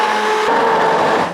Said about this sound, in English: So here's my blender, and I'll blend away.